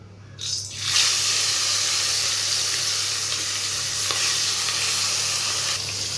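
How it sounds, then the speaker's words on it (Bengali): Hot oil hisses and sizzles steadily in a wok as fish is added, a loud continuous frying roar that begins abruptly and holds throughout, with no voices. "তেলটা গরম হয়ে গেছে এবার মাছগুলো আমি দিয়ে দিব"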